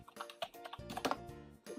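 Quick bursts of keystrokes on a computer keyboard while a new folder is named in Windows, soft and close, with irregular taps and short pauses and no talking.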